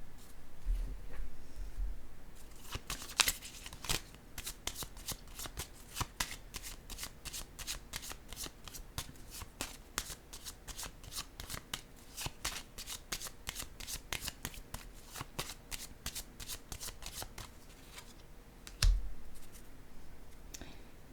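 Playing cards riffled and shuffled in a long run of quick, even flutters, then a card set down near the end, close and alone without talk.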